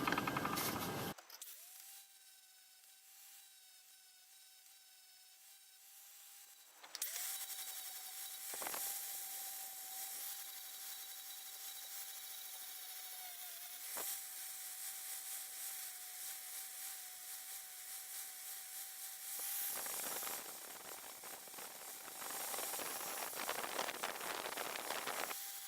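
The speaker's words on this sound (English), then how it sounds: "And this is a 60 grit flap disc on the angle grinder." Angle grinder with a 60 grit flap disc grinding steel while a centre punch is forged: a steady, loud whine runs continuously for about twenty seconds with abrasive hiss over it, briefly dipping twice as the disc leaves the work.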